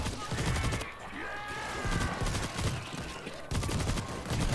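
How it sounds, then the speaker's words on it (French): A heavy machine gun in World War Z hammers out rapid bursts at moderate volume, broken by short gaps and layered with other game noise, with a voice faintly audible underneath. "ça c'est une mitrailleuse lourde"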